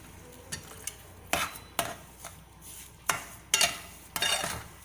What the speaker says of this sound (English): Now keep stirring.